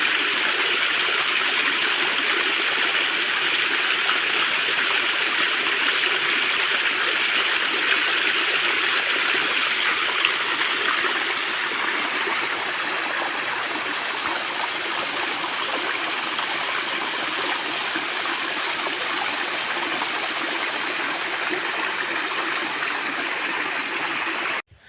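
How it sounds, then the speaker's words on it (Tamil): Beeman waterfall in the forested Jawadhu Hills, running with low water flow, gives a steady, close rushing and gurgling that holds evenly throughout with no talk over it. "இப்போ வந்து அருவியில் வந்து தண்ணி ரொம்ப கம்மியாக வந்துக்கிட்டு இருக்குது"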